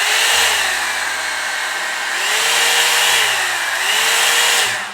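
A Revlon dryer brush hair dryer runs on its first heat level, a loud close steady whoosh of blowing air that rises and falls slightly as it moves through hair.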